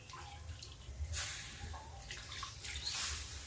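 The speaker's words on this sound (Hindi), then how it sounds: "अब इसमें पानी डालते हैं। ये गर्म पानी है" Hot water is poured into singhara flour kadhi cooking in a pan over a low gas flame, a close, splashing gush that swells and eases in waves for several seconds.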